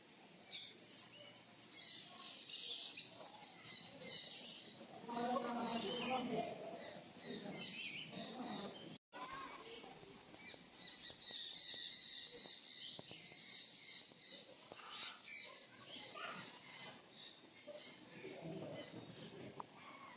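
Birds in an outdoor bird park in Taif, with caged peacocks nearby, chirp and tweet in scattered bursts throughout, fairly faint and at a moderate distance, with the calls overlapping across the stretch.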